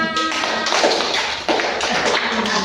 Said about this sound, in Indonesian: Oh, tepuk tangannya.